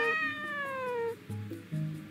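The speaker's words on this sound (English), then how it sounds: "Ooh, yes, pick the calico cat." A calico cat in a video game gives a drawn-out, falling meow followed by two shorter, lower mews, close and clear with no voices over it.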